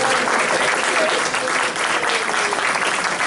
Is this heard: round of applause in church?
yes